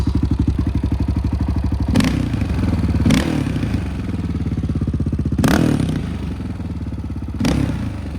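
A Honda TRX700XX ATV engine idles with a close, steady chugging pulse. Four sharp throttle blips come through as brief revs over the idle, with a few clattering mechanical knocks.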